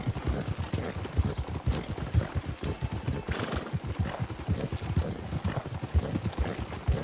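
Galloping horse hooves in Red Dead Redemption 2 during a winter endurance race, a steady rapid clip-clop rhythm, close and moderately loud, with faint snorts and no talk over it.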